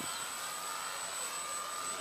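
A Shock Fly model airplane passes overhead with a steady, thin electric motor whine over a continuous airy rush, moderately loud and unbroken, with no talk.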